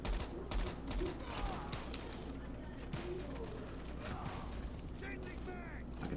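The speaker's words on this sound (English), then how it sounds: "And I'm shooting a teammate." Gunfire in a battle royale shooter game, rapid bursts of shots and clattering weapon noise that keep going throughout, mixed with other game sounds and a voice.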